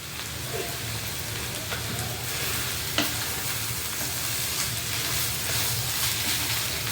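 Chicken keema with fenugreek leaves sizzles in a pan after a spoonful of garam masala goes in, a continuous crackling fry with soft stirring scrapes and one sharp clack partway through, steady and close.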